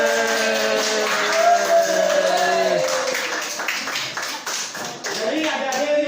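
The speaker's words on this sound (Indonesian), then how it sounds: "tepuk tangan" A class of Arabic-course students claps their hands together in a classroom, brief uneven patters mixed with voices talking and calling out over the clapping.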